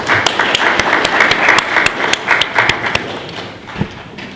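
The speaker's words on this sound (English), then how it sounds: "Ladies and gentlemen, could we give El Dorado Offshore a round of applause?" An audience at a public lecture breaks into sustained applause, with dense, close clapping that runs steadily and then thins out toward the end.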